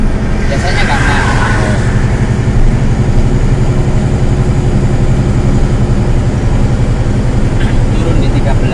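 A Hino Ranger 500 Euro 4 truck engine labours uphill in low gear, giving a steady, close, deep rumble that holds unchanged throughout.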